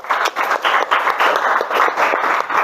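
A room full of people applauds, with dense, steady clapping that holds throughout.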